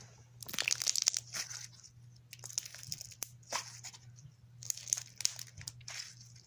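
Glitzy coupon slime and Nickelodeon slime are squeezed and stretched close up, giving quiet, irregular crinkling and crackling bursts separated by short pauses.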